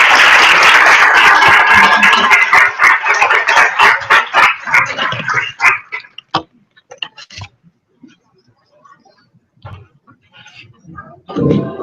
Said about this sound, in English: Please, let's give them a big applause.